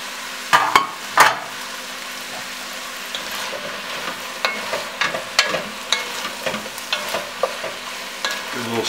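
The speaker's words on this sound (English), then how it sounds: "So now I'm just going to add all of the chicken." Pieces of chicken sizzle and fry in a hot pot for buffalo wing soup, with scattered clattering stirs and scrapes building into a busy, irregular rhythm.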